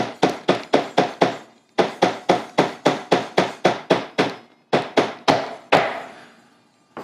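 Mallet taps on a router template being seated into a Stratocaster-style guitar body for swimming-pool routing: a steady run of about twenty sharp, close wooden knocks in quick clusters, the last blow ringing out longer.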